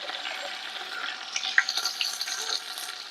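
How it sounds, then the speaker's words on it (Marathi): Bay leaves and ginger-garlic paste hit a hot oiled pan, giving a steady close sizzle and crackle with small pops and stirring scrapes, and no one talking. "हे तेजपत्त्याची पानं आहेत ते आधी टाकून घेते त्याच्यात आणि आलं आणि लसूण ते वाटून घेतलेलं आहे"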